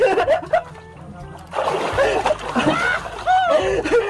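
Water splashes loudly as someone jumps into a cold pool, surrounded by lively voices talking and calling out nearby.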